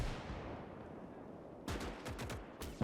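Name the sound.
artillery and rifle fire in Gates of Hell video game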